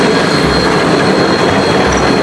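A toy train runs with a steady, loud rolling rumble and clatter, continuous and unbroken with no voices.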